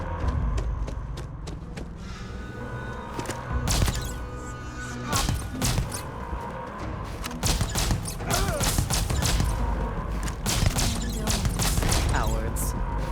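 Gunfire in the space game Starfield, with rapid cracking shots and thuds in dense clusters, loud and close, while someone talks over the fight.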